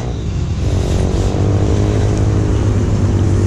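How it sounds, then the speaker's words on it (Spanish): A motorcycle engine rumbles loud and close during a torchlight street parade at the Motauros 2019 gathering in Tordesillas, Spain, holding a steady low drone that grows slightly as it nears. "que viene una moto."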